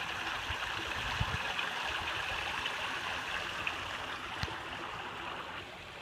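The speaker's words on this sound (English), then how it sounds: "Like this crystal clear water running off this bridge." Clear water running off a bridge into a stream outdoors, a steady soft rushing wash with faint splashes, fairly quiet and continuous with no voices.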